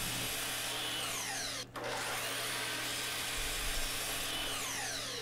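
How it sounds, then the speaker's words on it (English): A miter saw cutting a splay angle across the top of a walnut stile: a loud, sustained whine of the blade through wood, with one brief dip partway through before the motor runs on steadily. "At my miter saw station, I'll cut the splay angle on the top of the two styles"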